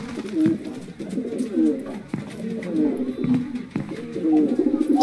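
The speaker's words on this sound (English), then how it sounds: "Or pigeons." Pigeons cooing repeatedly in a Minecraft world, a steady run of soft, close, throaty coos rising and falling over several seconds, with no voices over them.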